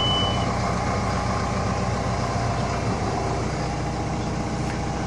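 A John Deere 310K EP backhoe's diesel engine runs loud and close after a cold start with piloted fuel injection, a steady rumbling drone with a brief high beep at the start.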